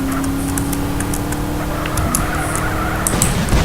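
Car driving in the MTA video game, a continuous loud engine drone with tire squeal and skidding sounds rising near the end.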